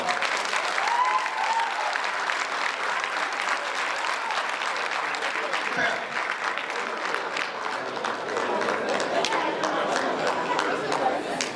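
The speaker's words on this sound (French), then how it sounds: "Applaudissez encore une fois" Steady audience applause fills a hall at a medical thesis defense at UGB, a dense, sustained patter of many hands clapping for the whole stretch, with crowd chatter and voices mixed in underneath.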